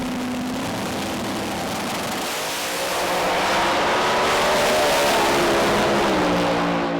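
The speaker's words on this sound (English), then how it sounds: "Nice easy shakedown run from Bert, eases off a little at the top end" Ford pro mod drag car at a British Drag Racing Championship round, engine roaring loud and continuous as it accelerates down the strip, pitch climbing steadily before easing slightly near the end.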